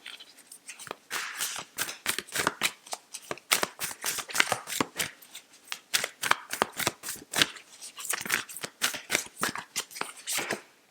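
A deck of yogic oracle cards being shuffled, repeated quick riffling bursts of papery flicks and snaps in uneven clusters, close and clear with no talk.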